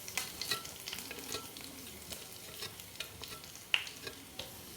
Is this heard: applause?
no